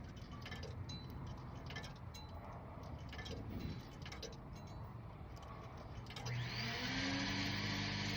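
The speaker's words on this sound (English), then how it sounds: "I didn't want y'all to hear that vacuum so long" A household vacuum cleaner drones steadily and close throughout, its motor pitch rising and growing louder near the end.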